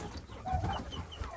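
Chickens cluck and murmur in a farmyard flock that includes two red roosters, soft low calls overlapping nearby, with no talk.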